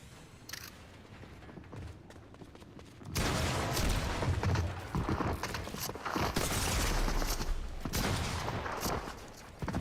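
Shotgun blasts and gunfight noise in Fortnite, dense and loud after a quieter opening, with sharp repeated bursts close by and no talk.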